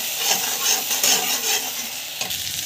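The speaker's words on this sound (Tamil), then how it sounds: "டொமாட்டோ ஆட் பண்ண பிறகு இதுவும் வந்து நல்லா வதங்கணும்" Tomatoes sautéing with chana dal in a pan, a steady sizzle broken by the scrape and clatter of a spoon stirring, close and continuous with no talk.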